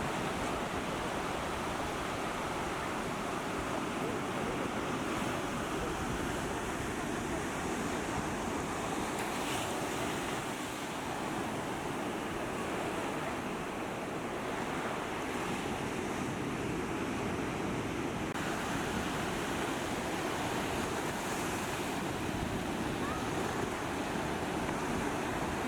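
Surf on Kovalam beach in Kerala: a steady, continuous wash of breaking waves mixed with wind rush, with no distinct pauses.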